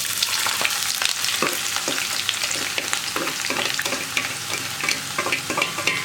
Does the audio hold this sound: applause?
no